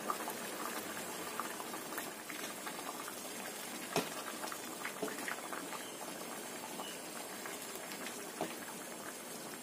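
Fried fish with petai beans simmers in a spiced sauce in a pan, a soft continuous bubbling and popping with a few sharper spits, heard close and quiet with no talk.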